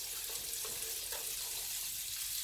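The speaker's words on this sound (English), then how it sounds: "Kind of whisk that together to get any lumps out." A flour mixture for gumbo is whisked in a bowl, giving a steady close scraping and swishing texture that runs the whole time without any talk.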